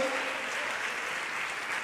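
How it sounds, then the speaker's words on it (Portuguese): Church congregation applauding the Lord during a worship service, a dense, even wash of many hands clapping at once, loud and continuous through the short clip. "Dê mais um lindo aplauso ao Senhor em nome de Jesus"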